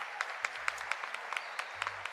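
Sparse, scattered applause from a small audience at an evening gathering, individual claps distinct and fairly faint, with no talking.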